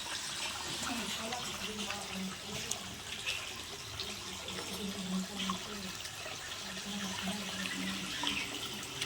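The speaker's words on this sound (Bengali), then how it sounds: "সে পাইপ লাগিয়ে দিলাম, জল হচ্ছে" Water runs steadily from a pipe outdoors, a continuous low broadband rush with faint background voices and a child's sounds mixed in throughout.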